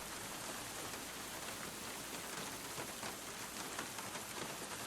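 Heavy rain falls in a steady downpour in the Sherlock Holmes game The Secret of the Silver Earring, a dense even hiss of drops on surfaces, faint and continuous with no voices.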